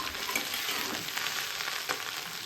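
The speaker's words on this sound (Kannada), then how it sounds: "ಈ 1 kg ಬೆಂಡೆಕಾಯಿ ಇದೆ, ಇದನ್ನು ಚೆನ್ನಾಗಿ ಫ್ರೈ ಮಾಡೋಣ." About a kilo of okra (bhindi) frying in a kadai, a steady broadband sizzle running throughout with faint stirring scrapes, close and alone with no voices.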